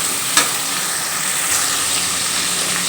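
Onion, tomato, garlic and shallots sauté in a pan with a loud, continuous close sizzle and a single clink of a spoon against the pan.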